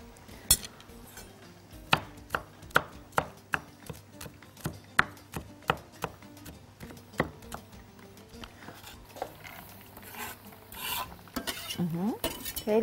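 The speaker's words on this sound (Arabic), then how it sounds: "هبتدي افرم التوم اهو، اهرسه بس كده الاول" Garlic being minced by hand with a knife on a cutting board, a run of crisp evenly spaced chops close up, giving way to softer scraping and crushing sounds with a few clinks near the end.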